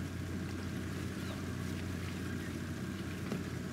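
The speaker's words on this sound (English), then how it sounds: "Do you think maybe this boat needs a test ride?" A boat rumbles steadily on the water, with a constant low engine drone and wash noise throughout, moderately distant.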